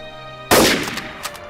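A single sharp sniper rifle shot in the video game Garry's Mod Trouble in Terrorist Town, loud and abrupt, followed by a brief decaying echo and a faint second report.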